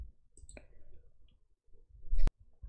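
Mouse clicks on a computer in a quiet room: a few faint, soft taps, then one sharp, louder click near the end.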